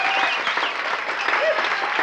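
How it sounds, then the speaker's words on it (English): A studio audience at a TV variety show applauds for a stunt performer, a dense, steady wash of clapping that stays loud and close for the whole stretch, with no pauses. "Fine round of applause for Super Dave Osborne"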